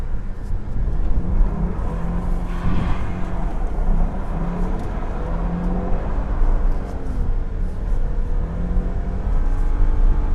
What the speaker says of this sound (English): Keep it in first gear, do a donut.